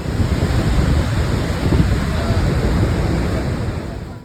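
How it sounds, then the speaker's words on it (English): Niagara Falls roars in a loud, steady wash of rushing water that holds constant throughout, with wind buffeting the microphone. "Just listen to how loud the Niagara Falls are."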